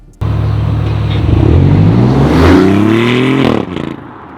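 A BMW i8 fitted with a Quicksilver exhaust revs loudly close by, its engine note climbing and falling in a sustained rumble before cutting off abruptly near the end.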